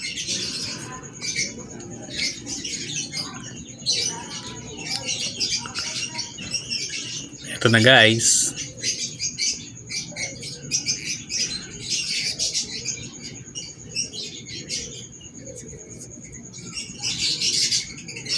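A blue personata opaline masked lovebird squawks and chirps repeatedly, close by, with one loud harsh squawk midway; a person talks briefly in between.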